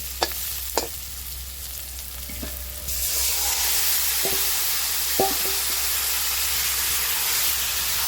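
Marinated mutton drops into hot oil with fried onions and a loud sizzle rises, hissing steadily with a few clinks of a utensil against the pan.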